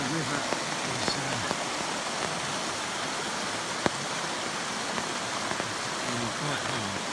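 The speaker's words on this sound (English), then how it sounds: "Rain's coming down at the moment." Steady rain falling at night beside a river, a dense even hiss of drops with occasional louder splashes, continuous and close without any voices.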